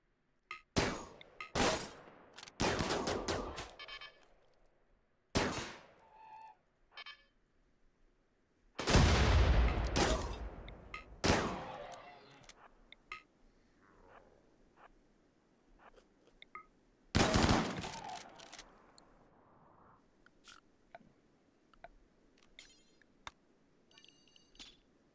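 Mini turrets firing in the video game RimWorld, with several sharp volleys of rapid shots in separate loud bursts, broken by quieter gaps of softer game effects, and no talk.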